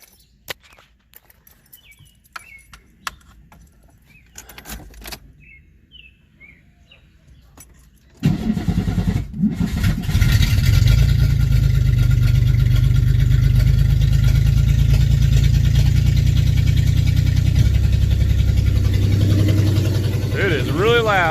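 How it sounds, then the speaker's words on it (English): A 1994 Chevy Corsica cranks after sitting overnight, then catches and settles into a loud, rough idle with a misfire. Quiet clicks and faint birds come first, and the engine is close and dominant from about eight seconds on. "Had a pretty good misfire when it started up"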